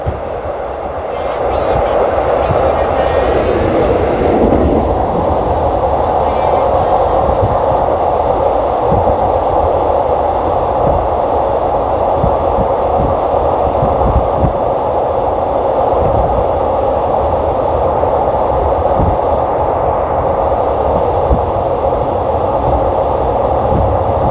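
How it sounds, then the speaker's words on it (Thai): An inbound train bound for Bangkok roars past on the adjacent track near Don Mueang, a loud, continuous rumble with rhythmic clatter heard from inside a moving train. "เราก็จะสวนกับขบวน รถไฟขาเข้ากรุงเทพ"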